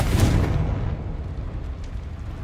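A Confringo spell blast in Hogwarts Legacy, a loud booming explosion that hits at once and then rumbles and decays over a couple of seconds, heard alone.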